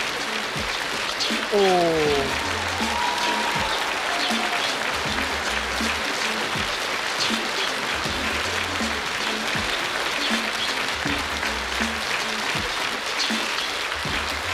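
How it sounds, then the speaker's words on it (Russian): A concert audience at a comedy show applauds in a long, steady wash of many hands clapping, with occasional sharper claps standing out and a brief voice heard early on. "Аплодируем, аплодируем."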